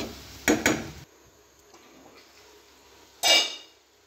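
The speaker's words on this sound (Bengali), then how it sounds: "এখন একটু কষিয়ে নেব" Food being sautéed in a pan, heard as a few clattering scrapes and knocks of a utensil against the metal, two quick ones at the start and another later, with quiet gaps between.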